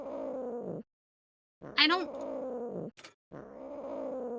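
A cat in the Nancy Drew game The Deadly Device gives a short meow-like call with rising harmonics between stretches of a person talking, followed by a brief sharp sound.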